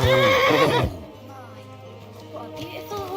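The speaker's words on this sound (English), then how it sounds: "What a beautiful horse." Horse neighing loudly in the Kingdom Come: Deliverance 2 video game, a strong whinny followed by hoof clip-clop and quieter movement in the background.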